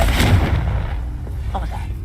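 A Confringo blasting curse explodes in the Hogwarts Legacy video game, a loud booming burst at the start that rumbles and decays over about two seconds, with a faint voice underneath.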